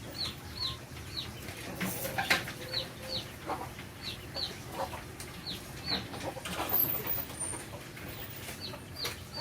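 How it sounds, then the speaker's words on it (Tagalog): Birds around their nest near potted plants, repeated short chirps and calls at moderate distance over a steady outdoor background, with occasional louder clucking notes and no talking. "May ibon na? Ayun na yung ibon."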